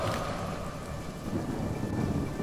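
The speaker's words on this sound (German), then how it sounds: "Aber es ist auch cool, dass es in der Höhle regnet." Thunder rumbles deep and loud through steady heavy rain inside a cave in the video game Divinity: Original Sin, a continuous stormy roar with rolling low swells and no voices.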